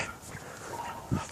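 A puppy whimpers and whines in short, soft, high cries close by, with a sharper little yip near the end.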